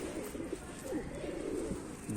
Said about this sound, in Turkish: Düğün kuşu. Dilek tutuyorlar. Nikah salonunda salıyorlar hani.